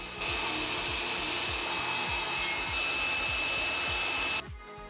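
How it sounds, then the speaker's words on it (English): A hand saw cuts a gap into a piece of wood in steady back-and-forth strokes, roughly two per second, rasping and close, before the sawing stops abruptly near the end. "I am going to saw a gap to fit a Lego brick inside."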